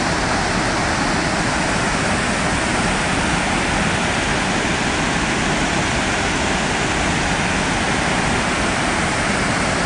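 A loud, steady roar of falling water at McArthur-Burney Falls fills the scene, constant and unbroken throughout, with no voices.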